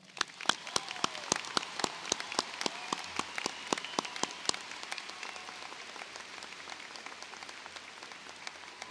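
A round of applause at the Wando High School 2023 commencement ceremony, a large crowd clapping steadily and briskly with a few sharp, distinct claps standing out near the front, the sound thinning gradually toward the end.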